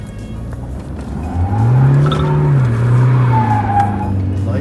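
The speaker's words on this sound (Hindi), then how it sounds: "आप देख रहे हो खड़ी गाड़ी घूम रही है" A stage 1 tuned Toyota Fortuner SUV spins around on the spot, its engine droning under a sustained tire squeal that swells midway and holds, loud and close.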